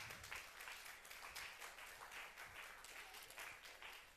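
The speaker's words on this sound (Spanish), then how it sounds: "Vamos, denle fuerte palmas al Señor." Congregation clapping during a Spanish-language church service, steady dense hand claps filling the room at a moderate distance, faintly recorded, with no talk over it.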